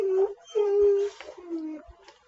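Dogs in a video game howl and whimper in short, drawn-out wavering cries, several in quick succession, fairly close and clear.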